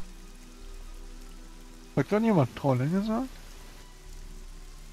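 Steady rain patters on a surface throughout a German fantasy role-play audio drama, with a voice speaking briefly over the downpour midway.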